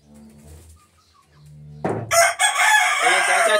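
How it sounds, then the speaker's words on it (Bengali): Chickens in a coop are heard, with soft clucks and quiet movement at first, then a loud, close rooster crow that fills the second half. "মুরগিগুলো দেখতে পাচ্ছ তোমরা, এদের খেতে দিতে হয়।"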